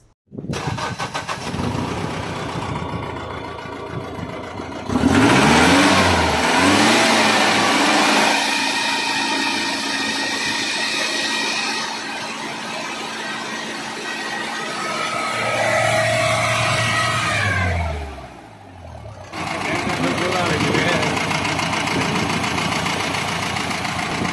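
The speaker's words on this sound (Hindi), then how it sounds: "तो चलिए अब गाड़ी को स्टार्ट करते हैं" A Mahindra Bolero pickup diesel engine, just back from injector repairs, cranks and catches, idles with a steady mid-pitched rumble, briefly cuts out, then restarts and settles back into a loud, close idle.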